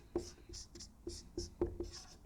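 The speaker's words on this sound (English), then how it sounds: "Let me write it again." Handwriting during a lecture produces short, scratchy strokes in an irregular rhythm, fairly faint and close, with brief gaps between marks.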